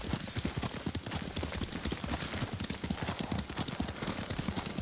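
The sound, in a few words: horse hooves clip-clopping while riding, video game Ghost of Tsushima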